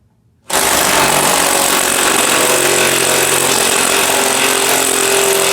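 The fuel pump of a Chevrolet C10 squarebody pickup starts abruptly after a brief silence and then drones loudly and steadily at close range with no break.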